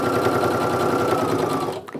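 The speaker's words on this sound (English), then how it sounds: "I'm using just a regular standard 1/4" seam to sew these together." A sewing machine stitches quilt block pieces together with a regular 1/4" seam, giving a close, continuous rapid whirring hum that slows and cuts off near the end.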